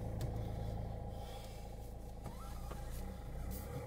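A car driving on a road, heard from inside the cabin as a steady low engine and road rumble with no talking.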